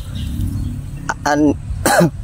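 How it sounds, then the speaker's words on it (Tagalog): A few short, harsh coughs burst out near and loud, separated by brief pauses, with a low steady hum underneath. "Inuubo kasi ako"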